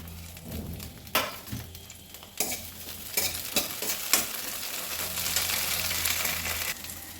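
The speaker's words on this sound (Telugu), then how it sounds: "కడాయి పెట్టుకొని కొంచెం ఆయిల్ వేస్తున్నాను పచ్చిమిర్చి వేయించుకుందాము" Green chillies frying in oil in a kadai, a steady close sizzle punctuated by scraping and knocking of a stirring spoon, rising into a denser hiss toward the end.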